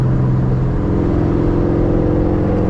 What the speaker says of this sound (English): sound of the engine, bro. Exhaust, V8.